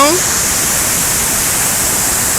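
Overflowing hillside streams rush after heavy rain near a road hit by landslides, producing a loud, steady, broad roar of churning water with no break throughout.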